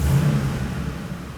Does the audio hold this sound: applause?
no